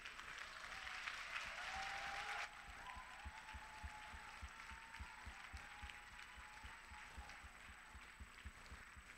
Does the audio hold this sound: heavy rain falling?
no